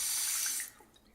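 Water running and splashing for about half a second during wudu washing, a steady broadband hiss that cuts off abruptly, leaving faint drips and quiet room tone.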